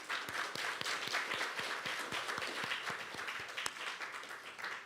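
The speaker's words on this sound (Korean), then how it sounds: "잠깐 일어나서 인사하실 때에 큰 박수로 환영해 주시면 감사하겠습니다" A church congregation gives steady, sustained applause to welcome a guest during a Korean service, with many hands clapping in a continuous moderate wash and a few sharper, regular claps standing out near the front.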